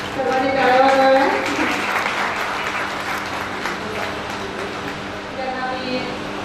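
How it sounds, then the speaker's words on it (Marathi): An audience claps at a Women's Day event held by the Panchal Sonar community in Solapur, a steady, dense wash of applause that fades slowly, with a voice speaking over it at the start and end. "सर्वांनी टाळ्या वाजवाव्या."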